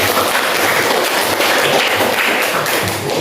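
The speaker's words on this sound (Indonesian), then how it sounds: "Kita kasih tepuk tangan Imam." Students give a round of applause in a high school classroom, a steady dense patter of clapping filling the room for a few seconds at moderate loudness.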